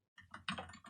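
A few soft, close keystrokes tap out a short command on a computer keyboard, a brief cluster of clicks after a moment of silence.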